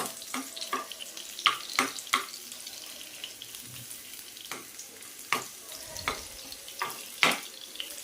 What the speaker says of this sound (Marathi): तूप तापिल्लें ते घालया आनी ते लसूण भाजून घेवया